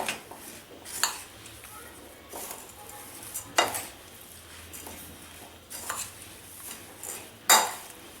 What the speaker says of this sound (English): I'm going to give this a good mix